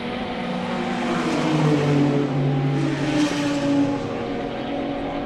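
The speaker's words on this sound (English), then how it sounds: "Pulling away slightly now from that second Nissan GTR." Nissan GT-R race cars at a National Extreme Festival circuit round, a sustained loud engine drone with harmonic tones shifting as the cars pull along the track, steady throughout with no talk.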